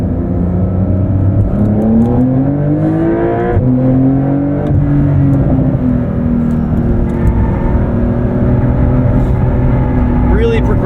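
2023 Porsche 911 Dakar engine with PDK transmission revs and accelerates through rising gear pulls, loud and sustained from inside the cabin.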